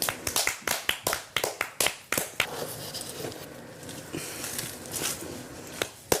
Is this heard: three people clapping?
yes